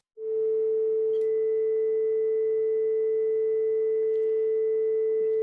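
A continuous 440 Hz sine wave test tone with a fainter 2 kHz ground loop noise injected underneath it, both sustained evenly after a sudden onset, with a couple of tiny clicks along the way.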